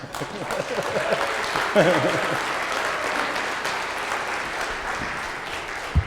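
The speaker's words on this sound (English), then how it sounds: "Let's particularly give them a big round of applause" Applause from a conference audience after a Black Hat security talk on 802.11b wireless attacks, a moderate wash of clapping with some crowd murmur and voices mixed in, ending with a sharp thump.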